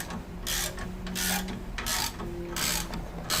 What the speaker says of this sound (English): And now I'm going to go ahead and crank away at it and tighten it up.